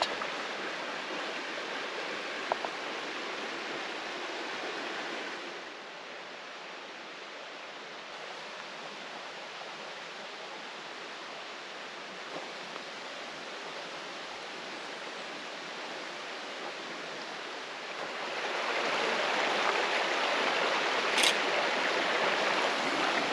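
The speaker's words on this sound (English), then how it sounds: "Great little camp spot by the creek in the shade of these big cedars." A creek flows past a shaded forest campsite under big cedars, a steady broadband rush of water that continues throughout and swells louder near the end, with no talking.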